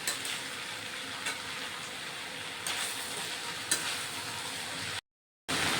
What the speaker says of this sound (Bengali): আলু বেগুনটা আর থোরটা দিয়ে সামান্য নেড়ে নেবো